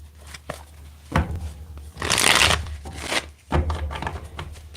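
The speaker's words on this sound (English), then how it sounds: "let's get one more good shuffle" A deck of cards being shuffled up close: short riffling bursts, then a longer loud riffle and a few sharp bridging flutters and taps, with no voices.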